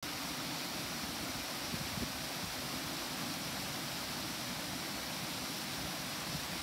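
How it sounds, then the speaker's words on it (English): Faint, steady hiss of a waterfall in a Minnesota state park along the Cannon River watershed, distant and even, with no voices. "I made it to the waterfall!"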